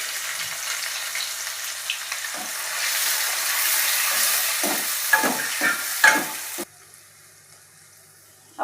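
Onion, chili and tomato fry in a pan while being stirred, giving a steady sizzle broken by several scraping stirs that build toward the end, then stop abruptly into near silence.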